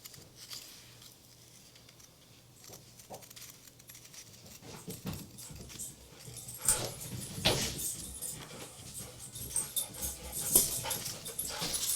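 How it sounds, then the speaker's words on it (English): Happy dogs pant and whimper close by in a series of uneven bursts, growing busier and louder toward the end. "Happy dogs just went outside."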